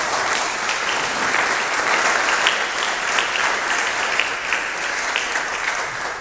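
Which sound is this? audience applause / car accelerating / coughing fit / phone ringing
audience applause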